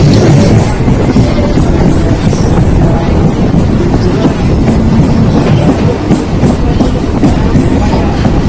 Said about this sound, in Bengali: তো বন্ধুরা, এখন আমাদের ট্রেন এসে পৌঁছলো কানকিনাড়া